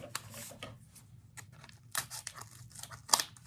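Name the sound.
scissors cutting open a gift package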